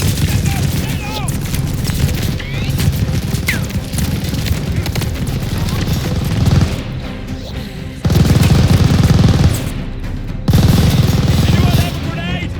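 A machine gun fires in Call of Duty Vanguard, Operation Tonga, in dense rapid bursts. The heavy fire surges louder in stretches, and shouted voices and battle noise sit in the mix.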